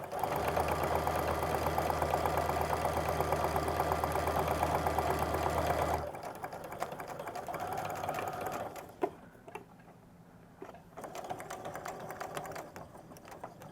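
A sewing machine stitches a seam on a backpack, running at a fast, steady chatter for about six seconds. Quieter, slower bursts of stitching and a few handling clicks follow.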